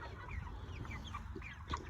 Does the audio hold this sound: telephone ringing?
no